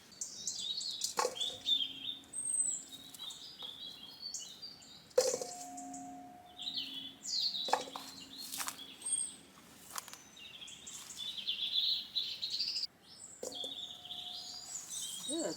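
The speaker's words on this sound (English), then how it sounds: "Love listening to birds singing." Birds chirp and sing outdoors in a quiet countryside setting, several light twittering calls scattered over fifteen seconds along with a few lower whistles, fairly soft and distant.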